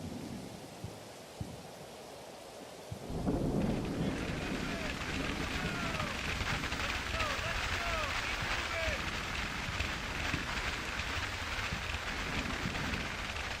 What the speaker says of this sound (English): No wind, perfect, but it is wet and it's light rain.